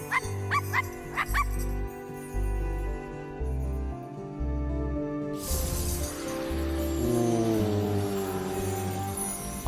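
A dog barks and yips a few times in the video game I Am Dead, sharp short calls near the start followed by game music and sound effects swelling in the background.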